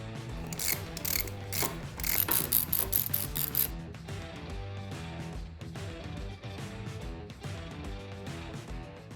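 A ratchet clicks rapidly in bursts on a 5/8 primary drain plug on a Harley Sportster motorcycle, a close, crisp run of pawl clicks followed by slower, intermittent clicking.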